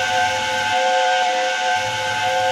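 A steam engine's whistle shrieks loud and continuous, a sustained multi-tone blast over a hissing rush of steam, unbroken from start to finish.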